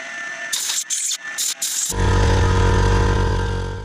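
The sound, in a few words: air compressor running in a woodturning workshop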